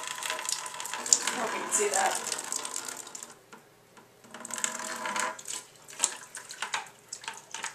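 Water from a fish tank drains through a hose into a bucket, a steady broadband rush with a voice speaking over part of it, dropping away briefly in the middle before gushing again.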